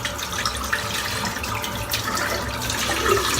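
Water from a tap runs steadily over a dense Greg Wagner Kabuki shaving brush knot as soap is rinsed out, giving a continuous close splashing rush.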